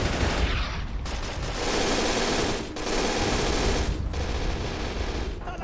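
Machine gun fire in the Men of War: Assault Squad video game, set in a German defense during the 1943 retreat from Stalingrad: loud continuous bursts of automatic gunfire with brief gaps, dense and close.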